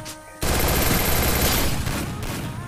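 Rapid bursts of shotgun fire in the Garena Free Fire battle royale game, loud and dense after a brief quieter start, continuing for over two seconds with a faint voice underneath.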